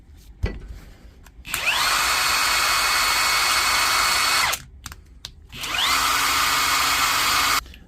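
A repaired Hilti SSID4-A22 brushless battery impact driver gives a sharp click, then two loud, steady high-pitched motor runs of about three and two seconds, each spinning up and cutting off abruptly.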